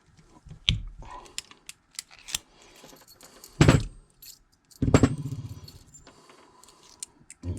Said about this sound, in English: You got to cut the keys.